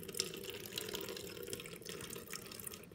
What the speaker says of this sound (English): instantly you can start to see now the water's coming out.